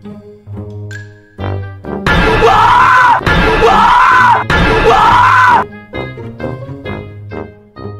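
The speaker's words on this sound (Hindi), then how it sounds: "दरवाजे के पीछे से बुल्ली बहुत ही ज़ोर से चीख मार देता है" A cartoon character lets out three long, loud screams from behind a door, each a sustained shriek with brief breaks between, framed by quieter musical tones and effects before and after.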